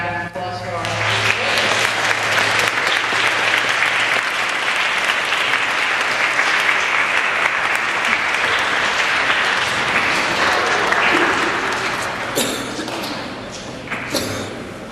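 Parents and students applaud at a school academic awards assembly, with loud, sustained clapping from a sizable room that carries through nearly the whole stretch, a few voices mixed in, before tapering near the end.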